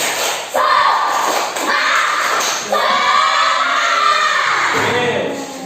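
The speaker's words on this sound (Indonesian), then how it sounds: "Beri tepuk tangan dulu." A classroom of students does a spirited group clap, loud and close, with repeated thumping claps mixed into children's shouts and crowd chatter.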